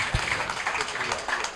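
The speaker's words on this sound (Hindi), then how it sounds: "मैं चाहूंगा एक बार इनके लिए जोरदार ताली।" Brief burst of audience applause at an Urdu poetry mushaira in Mumbai, a crowd clapping together at moderate volume, with a voice audible alongside.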